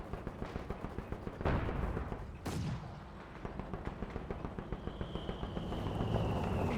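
Heavy machine gun fire from a .50 cal in Company of Heroes 2, rapid repeated bursts of shots running steadily throughout amid a busy battlefield mix with a loud blast partway through.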